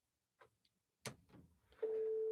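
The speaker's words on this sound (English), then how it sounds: "Ringing." A few soft clicks and a brief rustle, then a steady electronic telephone ringing tone starts and holds to the end.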